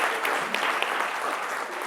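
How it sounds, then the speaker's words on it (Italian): Applause for the coach at a sports team gathering fills the room, a steady, crowded clatter of hands with a few crisper claps popping out above the even wash. "un applauso al mister"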